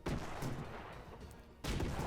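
Turrets firing cannons aboard an armoured airship tank in Airships: Conquer the Skies, a dense wash of broadband blasts and rumbling booms that keeps going, briefly easing off before another loud burst.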